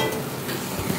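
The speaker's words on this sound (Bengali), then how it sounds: "সমস্তটা একদম ভালো করে কষতে আছে।" A vegetarian curry is sautéed in a pan, making a loud continuous close sizzle with stirring scrapes throughout.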